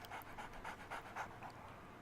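A zombie dog panting in the 7 Days to Die video game: quick, rhythmic breathy pants in an even series, faint and somewhat distant, no talk.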